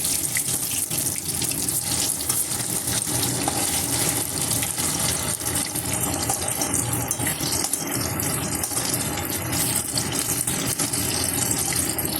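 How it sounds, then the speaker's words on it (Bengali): Cauliflower fritters deep-frying in hot oil, a steady dense sizzle and crackle that holds loud and even from start to finish with no voices. "ফুলকপিগুলো এখন আমি ডুবিয়ে ডুবিয়ে ভেজে নিলাম ভালো করে ভেজে নেব"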